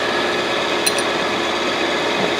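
A surface grinder's spindle motor runs steadily at speed, a loud continuous mechanical drone with a brief faint high tick near the start and no talk.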